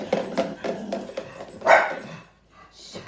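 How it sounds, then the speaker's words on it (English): Several house dogs bark in quick bursts indoors, a close, loud volley with yips, brief rattling between, then a pause and a faint high squeal at the end. "that's my dogs"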